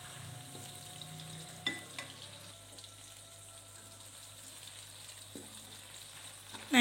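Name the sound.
tomatoes sautéing in oil for sambal ijo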